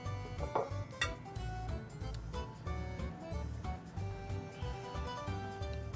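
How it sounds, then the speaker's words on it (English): Plates and dishes clink and knock while being handled in a home kitchen during salmon cooking, with scattered close clatters over a low background hum. "Grab a ghetto plate that we have here"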